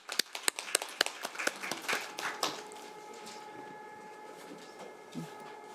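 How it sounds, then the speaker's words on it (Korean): A burst of applause from a small crowd at a policy meeting, sharp individual claps at first that thin out and fade into a quiet room within a few seconds. "오늘 발제해 주신 김기철 주회장님과 서은경 대표님께 다시 한번 큰 박수를 부탁드리겠습니다"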